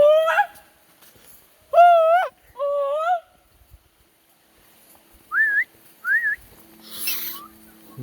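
A man whistles on a forest hiking trail, loud bright separate whistles in short bursts, some rising and falling, with a quieter pause between groups.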